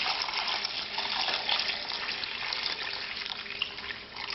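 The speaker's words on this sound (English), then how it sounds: "Now we're going to pour the stock that we just filtered into here." Filtered brown beef stock pours in a steady rushing stream into a bowl set on ice in a restaurant kitchen, a continuous loud splashing flow that barely changes over several seconds.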